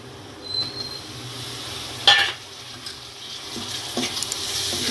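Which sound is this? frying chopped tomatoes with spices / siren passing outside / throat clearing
frying chopped tomatoes with spices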